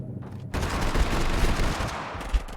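Rifle fire in a video game opens after a short quiet lead-in and becomes a loud, continuous stretch of rapid shots with a few heavier thumps, fading slightly near the end.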